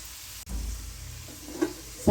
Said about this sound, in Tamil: கொஞ்சம் நம்மளுக்கு நல்லா முறு முறுன்னு வரட்டும் அந்தளவுக்கு நம்ம இதை பொறிச்சு எடுத்துக்கலாம்